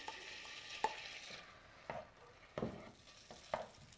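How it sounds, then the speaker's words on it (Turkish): Onions are added to a pan and sauté in oil. A quiet, steady sizzle is broken by four sharp spoon clinks and scrapes against the pan. "Şimdi önce şuraya soğanları ekliyorum"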